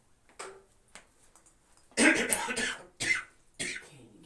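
Someone indoors coughs in a few short, sharp bursts separated by brief pauses, with faint lighter sounds before them in an otherwise quiet room.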